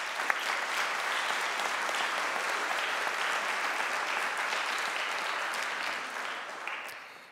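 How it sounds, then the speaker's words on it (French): Continuous audience applause at a human rights award presentation, a dense, even wash of many hands clapping at steady volume before easing off near the end. "Une main d'applaudissement, s'il vous plaît."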